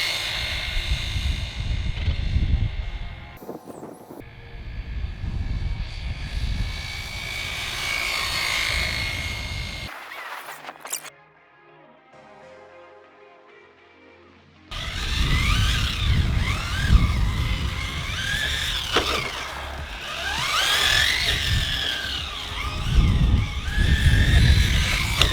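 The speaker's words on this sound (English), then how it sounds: "Let's do a speed run with a 2-cell LiPo." A 1969 El Camino R/C car on a 2-cell LiPo makes a speed run, its electric motor whining loudly as it passes near, dropping away briefly, then screaming back in close.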